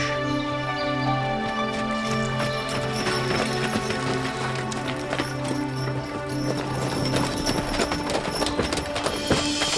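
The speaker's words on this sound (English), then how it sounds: "the 6 horses are worked out, just 2 at a time" Steady clip-clop of a six-horse hitch's hooves, continuous and fairly close, with harness jingles and a low rumbling background throughout.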